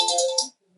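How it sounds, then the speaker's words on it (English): A phone alarm sounds a single short bright electronic tone, loud and close, then cuts off into near silence. "It's the alarm."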